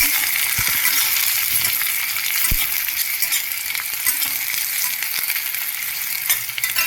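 Sliced onions sautéing slowly in a pan for kurma, giving a steady, close bright sizzle with occasional soft stirring clicks and no talking.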